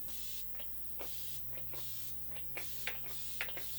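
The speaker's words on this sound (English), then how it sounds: "That's a spray. As I cover everything I own with setting spray" Several short bursts of aerosol spray hiss in quick succession, close up, with faint clicks between them.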